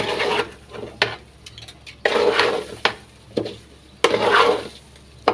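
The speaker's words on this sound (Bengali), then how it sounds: "এখন আমি চালগুলো ভালো করে উল্টে পাল্টে ভালো করে ভেজে নিব।" Rice for beef biryani is stirred and fried in a pot, with repeated rhythmic scrapes of a spoon across the pot's bottom, each stroke a rasping sweep ending in a sharp knock, about one per second.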